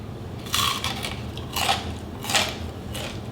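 Three crisp, loud bites into a crispy rice patty made with potato starch, each a sharp crunch separated by brief pauses, close up and with no talking.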